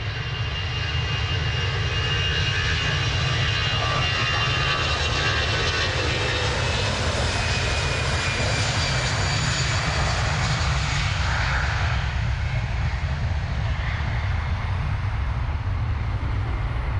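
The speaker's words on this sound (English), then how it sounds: "18-year-old Boeing 737-800." Jet engines of an 18-year-old Vueling Boeing 737-800 roar loudly and continuously at Manchester Airport, a broad, steady rush with a deep rumble and a slowly shifting whine, with no voices.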